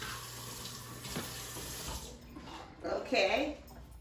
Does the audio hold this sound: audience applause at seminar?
no